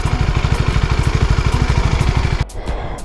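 A CFMOTO 300NK naked street motorcycle engine runs close up, a loud, even, rapid pulsing throb that cuts off abruptly near the end to a quieter hum.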